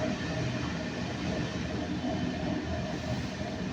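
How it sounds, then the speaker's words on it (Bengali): Train pulling into Bagila station at night, heard from inside as a steady rumbling roar with faint wheel clatter, continuous and fairly quiet. "তো আমাদের ট্রেন এখন ঢুকলো বাগিলা স্টেশন।"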